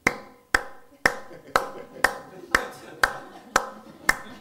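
One person gives nine slow, evenly spaced claps about half a second apart, each a sharp isolated smack with a short decay, close by and alone in the room, imitating hesitant applause.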